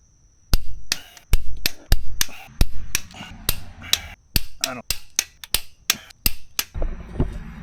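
A torque wrench clicks repeatedly while tightening the differential bolts on a Case 590 Turbo backhoe, giving sharp, close metallic snaps at a steady, roughly half-second rhythm, with ratcheting strokes between them and no talk.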